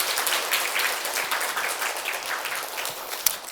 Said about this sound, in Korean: 우리 크게 하나님 앞에 다시 영광의 박수를 돌리겠습니다